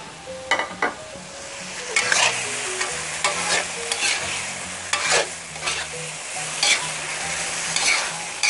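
Long beans and chili are stir-fried in a hot pan, with loud close sizzling and repeated rhythmic scraping stirs and tosses throughout, no voices.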